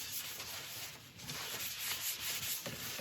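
Turned wood on a spinning lathe is polished with Yorkshire grit over a cellulose sealer, a steady soft rubbing hiss with faint pulsing from the rotation, continuous and close with no talking.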